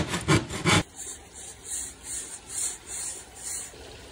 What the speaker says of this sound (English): Awkward sawing angle for the win.